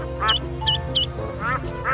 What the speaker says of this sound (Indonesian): yang ini bebek ternyata